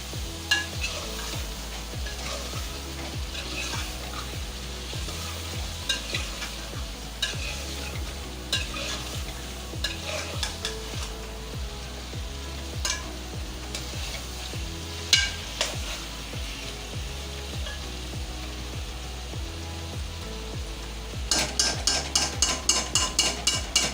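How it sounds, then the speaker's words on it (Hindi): Mutton being stirred and fried in masala over low heat, a steady sizzle with repeated scraping stir strokes at a regular rhythm, close and moderately loud, with a brighter burst of rapid clattering scrapes near the end. "अब आपसे गोश्त डाल रही हूँ। हल्की आंच से मिक्स करें।"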